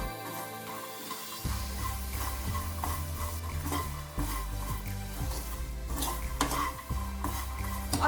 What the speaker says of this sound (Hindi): अभी सारे मसालों को मखाने में कोट करने के लिए हम इसमें डालेंगे और 1 टीस्पून बटर। अभी इसको अच्छे से मिक्स कर देंगे।